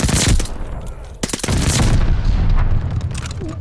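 Loud, close gunfire rattles in bursts on a Call of Duty: Vanguard hardpoint, sharp shots stacking into dense sustained fire with a brief lull partway through.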